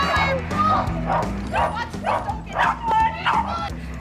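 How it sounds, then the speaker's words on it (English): Several dogs bark and yip in quick, overlapping bursts close by, with a few whiny yelps mixed in and a low steady hum underneath. "there's too much barking"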